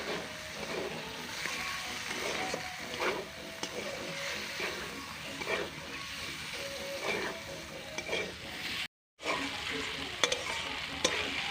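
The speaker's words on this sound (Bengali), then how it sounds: "এইবার এখানে দিয়ে দিচ্ছি সেই আগে থেকে গ্রেট করে রাখা পনিরগুলো। পনিরটা দিয়ে খুব সুন্দর করে এবার মিশিয়ে নিচ্ছি।" Grated paneer stirred into pointed gourd frying in a pan, a continuous sizzle broken by repeated scraping strokes of the spoon, close and moderately loud.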